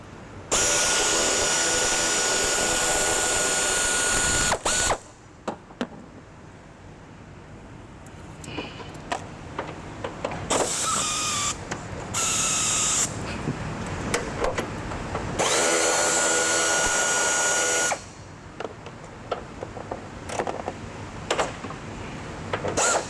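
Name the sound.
quarter-inch air ratchet running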